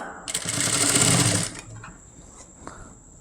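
A sewing machine runs steadily for about a second, stitching the neck lining of a blouse, then stops, leaving quiet handling sounds.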